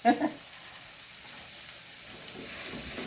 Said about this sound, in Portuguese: Mexer, porque o fogo tá alto.